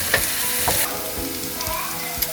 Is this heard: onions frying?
yes